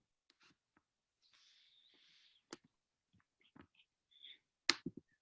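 Faint, sparse computer mouse clicks: a handful of sharp isolated ticks spread over several seconds with soft rustling between them, no voices.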